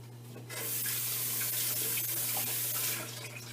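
Raw chicken rinsed under a running kitchen tap; water gushes on loud and steady after a brief start, splashing continuously into the sink before easing off, with a faint background hum and no talking.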